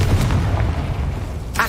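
A Confringo spell explodes in the Hogwarts Legacy video game, a heavy low boom that rumbles steadily through the short moment, loud and close, ending with a brighter burst.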